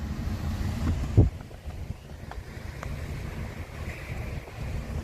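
Strong wind gusting outdoors during a storm chase in central Nebraska, a steady low roaring rush across the whole stretch with one sharp buffet near the start, no talking.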